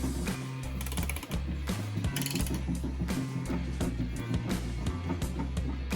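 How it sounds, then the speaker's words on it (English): A ratchet tightens the oil pickup bolts during engine assembly, clicking in quick repeated bursts of short strokes, close and fairly quiet. "So we're gonna grab the ratchet, which is right here"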